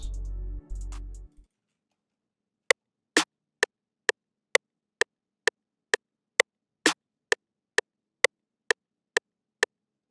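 After a brief low rumble, a tight snare sample repeats at a steady pace, evenly spaced sharp hits with a couple of slightly fuller accents.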